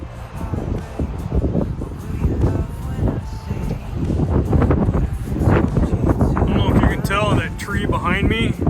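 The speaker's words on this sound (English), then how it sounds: "how breezy it is" Strong wind at a lakeside campsite at Unity Lake gusts steadily into the microphone as a loud, continuous roar that rises and falls, with a person talking over it.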